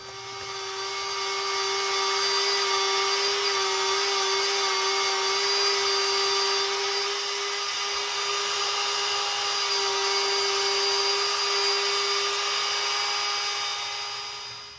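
A power sander with 120-grit abrasive works steadily over a knife blade being restored, a loud, even, high-pitched whine with a constant tone that holds for the whole stretch, close up and with no voices.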